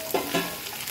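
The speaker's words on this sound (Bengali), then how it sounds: "সব কিছু একসাথে সুন্দর করে ভাজা ভাজা করে নেব।" Potatoes and cauliflower fry in a pan with ginger paste and green chillies, a soft sizzle broken by two quick stirring scrapes, close and quiet.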